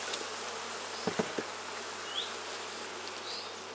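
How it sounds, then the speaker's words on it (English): Honeybees buzz in a steady, dense drone around an open hive during a colony inspection, with a few brief knocks of handling partway through and no talking. "Lots of bees."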